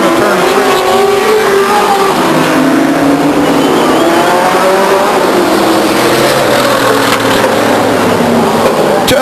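Race cars roar together into turn 3 at Stockton 99 Speedway, a dense, loud wash of engines revving and shifting pitch as the pack bunches up through the corner, with faint commentary mixed underneath.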